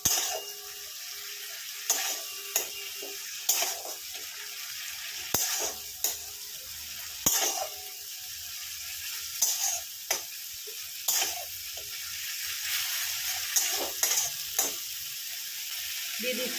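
Spice paste with chilli powder for a pomfret curry stirred and fried in a pan, a constant soft sizzle broken by regular scraping strokes of the spoon every second or two, close and alone.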